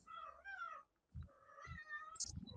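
Cats meow in clear, close succession, three drawn-out calls with light thumps in between, heard without any talk.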